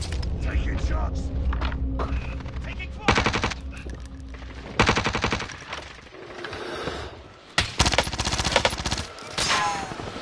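PPSh submachine gun fire in Call of Duty Warzone on Rebirth Island, several loud rapid bursts of automatic shots with pauses between, alongside other game sounds and some talk.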